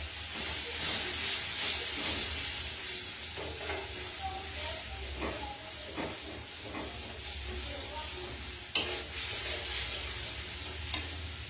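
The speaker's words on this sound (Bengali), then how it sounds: "এর মধ্যে এই যে কড়াইশুঁটি যেগুলো আছে সেগুলো কিন্তু দিয়ে দেব, দিয়ে মশলাটা কিন্তু কষতে থাকবো" Continuous sizzling and hissing from a pan as a spice paste with peas is stir-fried, with occasional scraping clinks of a utensil against the pan.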